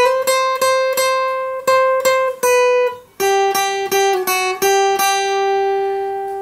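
Acoustic guitar playing a picked riff from a song, a steady run of clear plucked notes with ringing overtones, shifting to a lower phrase partway through, close and alone with no talk.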